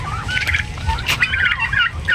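Young turkeys gobble and chatter in a close flock, rapid warbling calls overlapping over a low rumbling background, fairly loud throughout.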